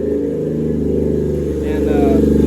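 A loud, raw 1JZ VVT-i engine in a Mazda RX-7 FC3S idles steadily and close by with no exhaust fitted, a rough throbbing rumble with no muffling, rising slightly in intensity toward the end.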